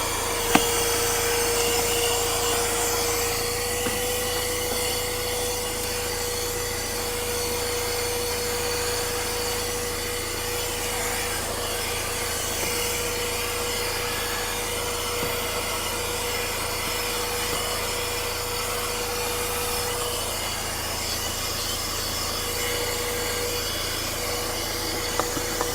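A mini handheld car vacuum cleaner runs continuously with a steady motor whine and airy hiss, a constant even drone at moderate level with no talking.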